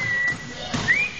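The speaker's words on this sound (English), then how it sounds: "you're just whistling." A young boy whistles near the listener, a thin high tone held for a moment and then a short rising note, over a soft room background.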